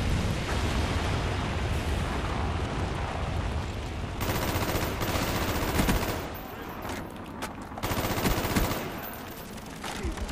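An Aug assault rifle fires in Call of Duty: Black Ops, with dense bursts of rapid automatic shots and brief pauses between volleys amid loud, busy battle noise.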